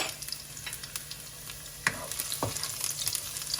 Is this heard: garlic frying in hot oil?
yes